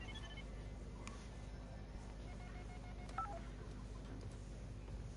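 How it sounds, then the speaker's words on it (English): Telephone keypad dialing in a video game, several short beeping tones pressed at irregular intervals over a steady low background hum, fairly faint. "Jackie Briggs trying to phone her father."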